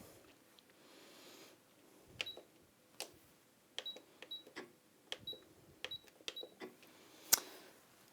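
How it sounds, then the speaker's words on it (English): Elna 720 PRO sewing machine giving a series of short electronic beeps with panel button clicks, irregularly spaced and fairly quiet in a still room. "I've got a bit of beeping going on."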